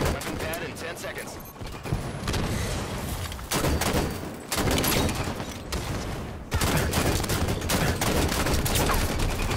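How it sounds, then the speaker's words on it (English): Rapid bursts of gunfire in the video game Halo 5, loud, overlapping volleys with brief pauses between strings of shots, under and between occasional talk. "DMR fire is too slow."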